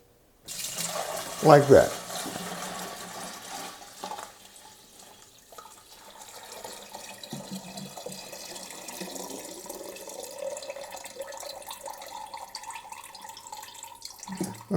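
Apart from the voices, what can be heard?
pouring dandelion wine liquid over a desk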